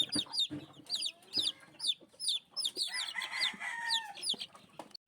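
Young male chicks in a brooder chirp and cheep constantly in rapid overlapping peeps, close and busy, with a few rougher calls mixed in.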